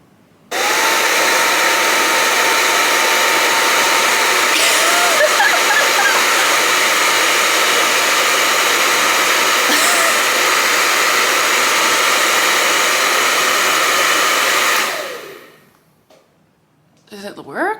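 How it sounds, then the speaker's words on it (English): A handheld hair blow dryer running on its max setting with a steady, loud roaring whoosh for about fourteen seconds close by, then cutting off abruptly into near silence with a brief rustle at the end. "so I have my blow dryer here. I'm gonna put it on the cool setting."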